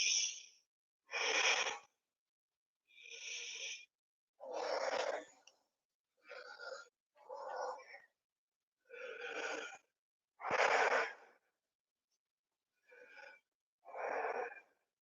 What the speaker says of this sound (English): So taking several deep breaths here.